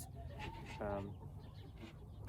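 Soft, low clucks from a few chickens eating close by, with a faint murmur of other birds behind them.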